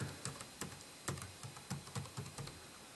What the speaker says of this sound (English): So let's feel what it feels to type on it.